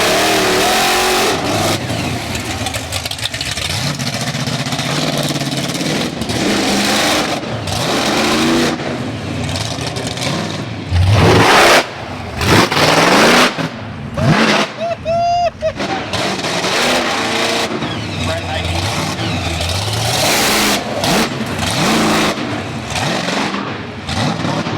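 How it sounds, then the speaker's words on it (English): Parachute-equipped drag car making turns around a course, its engine roaring loud and close with repeated surges and sharp revving bursts throughout, crackling like gunfire at times. "Drag car with a parachute taking turns."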